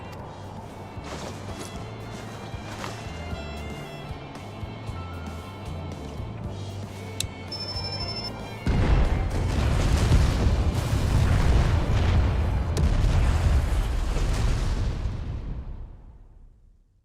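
Explosions in the video game Final Fantasy XIV: Endwalker burst in, a loud, dense rumbling barrage of booms and crashes that takes over from a sustained musical and ambient bed partway through, then fades out at the end.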